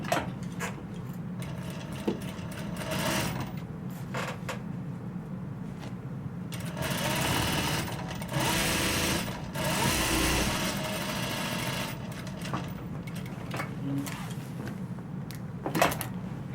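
A sewing machine fitted with a wide presser foot stitches along a zipper on a fabric bag, running in long steady whirring bursts with brief pauses and a few clunks, close and continuous, with no talking.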